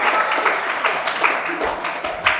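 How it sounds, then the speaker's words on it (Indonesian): A group claps together at a Friday Talk session, a looser, uneven patter of hands with individual claps standing out, loud and fairly close, with some murmured voices underneath. "Oke, tepuk tangan untuk kita semua."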